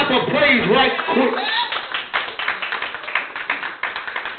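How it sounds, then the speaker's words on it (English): Church congregation clapping hands in praise during an afternoon usher board anniversary service, a steady run of claps mixed with voices and shouts that fades somewhat toward the end. "Give God a hand clap of praise right quick"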